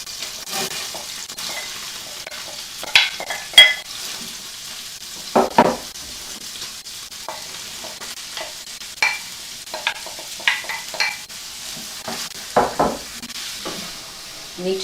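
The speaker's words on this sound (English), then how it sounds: "We're now going to cook our carrots and our onions." Carrots and onions fry gently in oil in a pan, a soft sizzle under intermittent spoon scrapes and light clatters of utensil against pan, fairly quiet and close.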